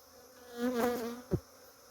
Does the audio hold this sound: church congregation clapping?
no